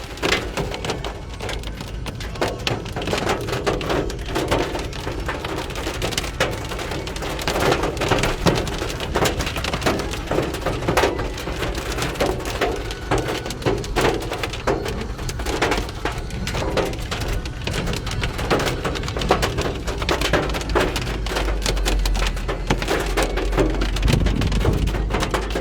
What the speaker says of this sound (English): That right there is golf ball sized hail.